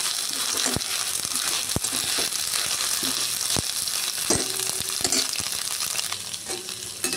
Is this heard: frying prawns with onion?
yes